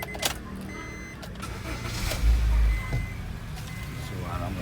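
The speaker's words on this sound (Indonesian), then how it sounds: "Suara mesin ini termasuk masih ciri khas Honda Mobilio" A 2014 Honda Mobilio E manual family car's engine cranks and starts, then settles into a quiet idle, heard up close beside the car with a brief heavier thump as it catches.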